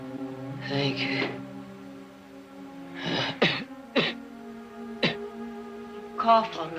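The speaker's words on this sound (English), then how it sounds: "Cough all night." Several separate coughs and throat-clearing bursts come in short clusters with quiet gaps between them, close and fairly loud, with a voiced, rasping quality.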